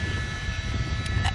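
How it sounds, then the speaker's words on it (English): A police helicopter hovers overhead during a Los Angeles police chase, producing a steady low rotor and engine rumble with a faint whine, continuous and moderately loud. "It's very difficult for the police helicopter that's overhead, too."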